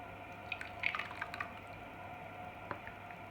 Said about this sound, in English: last thing to do is pour it into a bowl